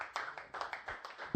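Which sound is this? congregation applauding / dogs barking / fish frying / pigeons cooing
congregation applauding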